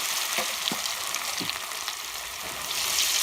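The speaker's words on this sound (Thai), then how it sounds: "เอาเส้นบะคุงมาทอด ทอดกรอบๆเลยวะ" Noodles fry crisp in hot oil, giving a dense hissing crackle throughout with a few soft spatula knocks, close and steady with no voices.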